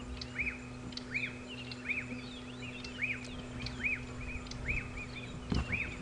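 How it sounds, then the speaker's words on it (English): A black-backed puffback calls during an evening safari drive at Djuma Game Reserve, repeating a sharp rising-falling whistled note roughly every three-quarters of a second, clear and fairly close over a low engine hum and faint other birds. "this is the little bird that's making this noise. So the black-backed puffback."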